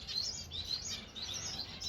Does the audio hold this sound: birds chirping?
yes